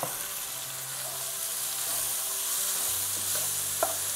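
Mixed vegetables sizzle steadily in a hot pan for paneer bhurji, a close, even frying hiss with a couple of faint clinks from a stirring utensil near the end; no voices.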